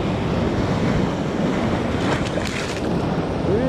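Ocean waves splash and wash steadily toward the shore on a sunny day at Niagara, a loud continuous surf roar mixed with wind buffeting the microphone.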